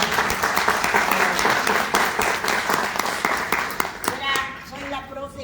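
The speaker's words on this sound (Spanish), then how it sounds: "ese aplauso está muy pobre" Thin, modest applause from an audience at a journalism summit, scattered clapping that fades out toward the end, with speech and a few light taps and pings at the tail.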